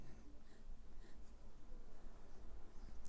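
Quiet scratching of a medium-nib fountain pen on paper from a Delike New Moon Rose pen, soft irregular strokes close up with faint pauses between them and no talking.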